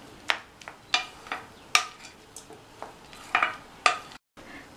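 A spoon mixing lemon rice in a pan after lemon juice goes in, making a handful of sharp, spaced metallic taps and scrapes, close and moderately loud over a quiet background.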